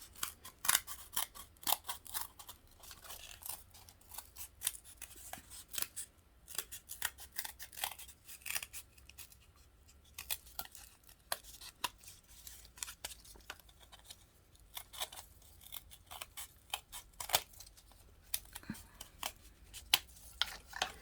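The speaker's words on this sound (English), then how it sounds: "I just want to cut this real quick into an oval." Scissors trim craft material into an oval for a Dollar Tree Valentine's gnome, making a long stretch of quick, close snips and rustles at a soft level, with no talking.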